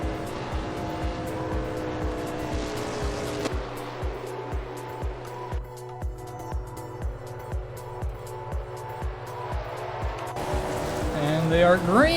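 Race cars in a NASCAR video game at Auto Club Speedway accelerate at a restart with layered, droning engine notes that climb and repeat in steady pulses. Engine noise swells louder toward the end while a commentator talks over it.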